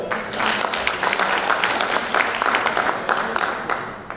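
Applause from a talk show audience, brisk continuous clapping from many people filling the room, close and fairly loud, with voices mixed in beneath.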